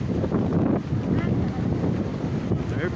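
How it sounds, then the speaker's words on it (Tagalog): Strong wind buffets the microphone in a steady, loud low roar during a bicycle ride from Angeles City, Pampanga toward Luneta Park, Manila, with faint voices beneath. "Lakas ng hangin."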